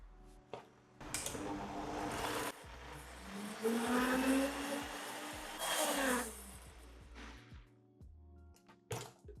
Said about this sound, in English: Blend it just until it's smooth